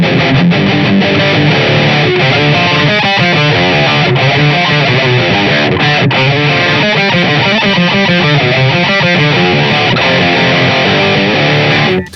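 Electric guitar through a Dut Beardy Islander III D+ preamp, a compact Mesa Boogie Mark IIC+/IV-style unit with its revised higher-gain overdrive circuit, plays a dense, saturated overdriven riff. The chugging chords stay loud and continuous throughout, with no talking.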